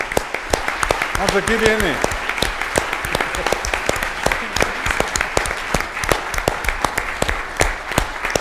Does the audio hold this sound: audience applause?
yes